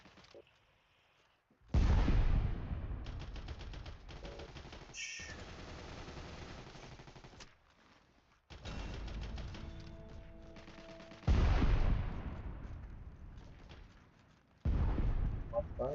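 Bursts of gunfire and explosions from the WWII shooter game Heroes & Generals come in loud, dense volleys separated by quieter gaps, with a grenade blast among them.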